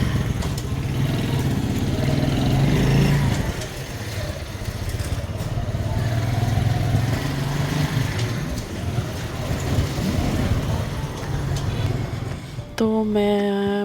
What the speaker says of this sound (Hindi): मैं भाई के साथ जो है बाइक पे जा रही थी